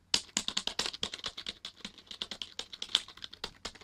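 Rapid typing on a Logitech K400r wireless keyboard with unresponsive keys, a close series of light plastic key clicks in an irregular, fast rhythm with no talking.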